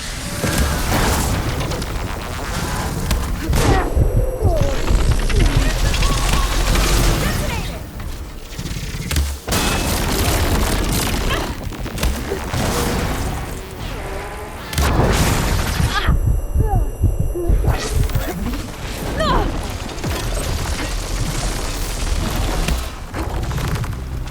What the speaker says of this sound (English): Do some bombs on this thing.